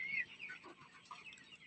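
Chickens cluck and murmur faintly inside a large chicken coop housing thousands of birds, a few soft overlapping calls close by.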